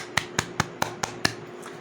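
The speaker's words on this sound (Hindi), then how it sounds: "अच्छे से ताली बजा" Six crisp hand claps at a steady, brisk rhythm during a Class 10 maths lesson. They are close and evenly spaced, with a quiet pause after the last clap.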